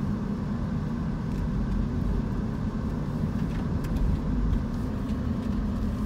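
A car drives over a rough, bumpy road with debris on the ground, its steady low engine and road rumble continuous and close throughout, with faint occasional knocks and no speech.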